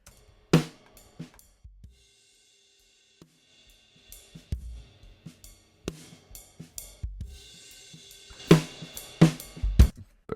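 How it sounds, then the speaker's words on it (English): Compressed drums play solo, punchy and exaggerated, sharp kicks and snappy snares with short decays, sparse at first then building into a busier pattern. "make the drums really punchy and exaggerated"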